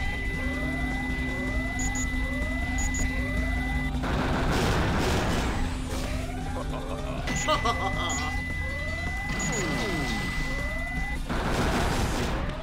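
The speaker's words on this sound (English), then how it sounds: "Don't you hate that beeping?" Repeated electronic beeps in the video game Sonic Adventure 2 pulse in a steady rhythm over busy game sound effects. They cut out briefly with bursts of impacts and noise, then resume.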